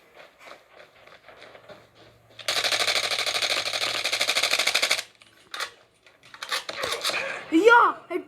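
Gunfire in a shooter video game, a sustained rapid automatic burst for a couple of seconds amid scattered shots and metallic clinks, with a voice speaking near the end.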